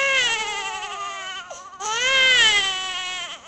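Two newborn twin babies cry loudly and continuously, their wailing harmonic cries overlapping, with a brief dip in the middle before the crying swells again.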